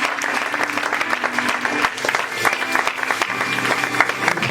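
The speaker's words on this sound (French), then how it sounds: "Applaudis le Saint-Esprit." A church congregation applauds together for the Holy Spirit during a French-language service, with dense, continuous clapping that fills the room and a few voices faintly mixed in.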